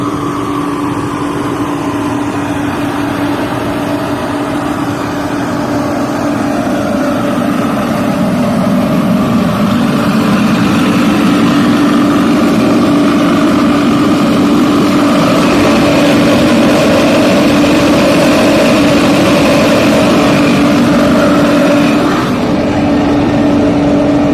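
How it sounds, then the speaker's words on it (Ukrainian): A homemade corn dryer's electric motor, started through capacitors and fed by a gas burner, runs loud and continuous with a steady droning hum and mechanical whir, unchanging for the whole stretch with no talk. "Двигун через пускові конденсатори і все так шурує."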